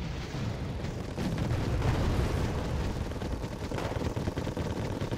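Mortar fire in the real-time strategy game Wargame AirLand Battle: a low, continuous rumbling roar with heavy booming that swells for a few seconds, moderately loud and without speech.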